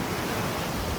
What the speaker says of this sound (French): Donc comme je l'avais dit, l'eau est assez agitée ici. Il y a de grosses vagues.